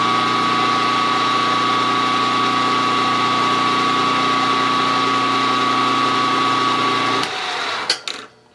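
A machine spins a center drill for a Stirling helicopter model part, giving a steady, loud whir with a constant tonal whine that drops off near the end, followed by a few sharp clicks.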